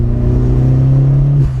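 A modified 2009 Vauxhall Corsa VXR holds a steady, loud engine drone heard up close from inside, with the pitch climbing slightly before dropping off abruptly at the end.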